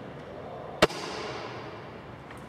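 A Well MB4410 airsoft sniper rifle fires one short, sharp shot, a single crisp snap standing clear of a quiet background.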